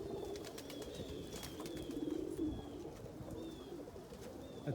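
Pigeons coo steadily at close range after a snow melt, soft low rolling calls repeating throughout, with a few faint higher chirps from other birds in the background.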